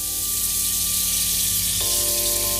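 Coriander seeds and cumin sautéing in margarine in a heated pot give a steady, close sizzle with a constant frying hiss throughout, no voices over it.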